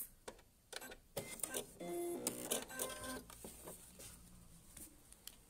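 A sewing machine runs in short bursts while backstitching an insulated water bottle carrier, its quick mechanical patter close and fairly quiet, broken by clicks and pauses.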